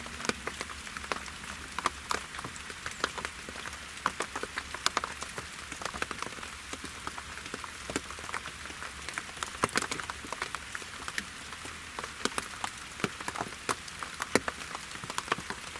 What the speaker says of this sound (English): It's a little rainy and messy this morning, so I'm sitting in my box stand because it has a roof.